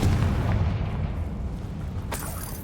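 Confringo fire-blasting spell explosion in the Hogwarts Legacy video game, a loud deep boom that rumbles and fades, with a sharp crack near the end.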